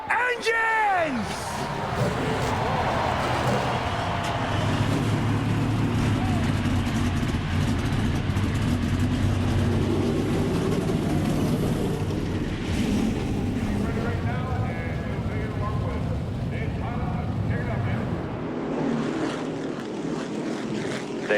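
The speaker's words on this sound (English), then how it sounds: "Drivers, start your engines!" A field of NASCAR stock cars fires up at the 2014 Daytona 500, a dense, loud, sustained engine roar that fills the speedway. A voice talks over the public address, and crowd and wind noise sit underneath.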